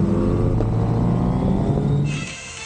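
A motorcycle in a group ride roars past at speed, a loud steady engine drone with harmonics that drops away and fades at the end, no talk over it.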